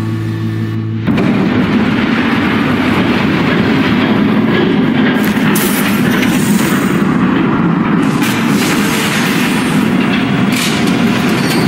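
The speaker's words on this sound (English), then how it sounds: "There's a train coming." A train in Batman: The Telltale Series thunders past after a short quiet start, a loud, close, continuous rumble with heavy clattering of wheels and cars that holds to the end.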